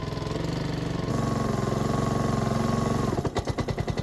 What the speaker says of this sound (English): Today, we have a Honda HRX 217 mower with a choke issue.